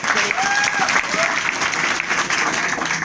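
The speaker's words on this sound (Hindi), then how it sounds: "एक बार जोरदार ताली मैं चाहूंगा" A crowd bursts into vigorous applause at the opening ceremony of a Vestige mini DLCP event in Sadulla Nagar, Balrampur, steady dense clapping throughout with a few faint calls and whistles over it.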